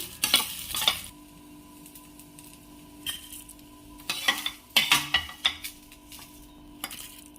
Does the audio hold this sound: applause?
no